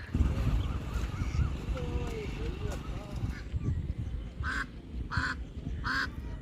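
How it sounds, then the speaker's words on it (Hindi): Birds calling by the water in Utraula, with a few short bright calls standing out near the end, heard over steady crowd noise and the bustle of a busy waterside. "पक्षी बहुत हैं यहाँ पे"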